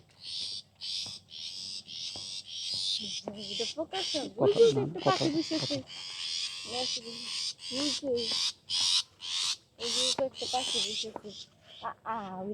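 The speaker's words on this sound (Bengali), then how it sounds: "সান্ধ্যকালীন পাখির কিচির বিচির শব্দ আমরা শুনতে পাচ্ছি" Birds chirping at dusk in a green village at Hoglagati, Keraniganj near Dhaka: repeated high, shrill calls in bursts throughout, while a person talks intermittently underneath.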